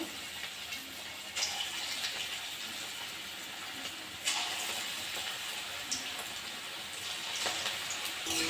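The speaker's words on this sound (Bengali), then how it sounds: "বাকিগুলো আমি একইভাবে ভেজে নেবো" Onion fritters (peyaji) frying in hot oil give a steady, close sizzling hiss with small crackles and pops running throughout, without any talk.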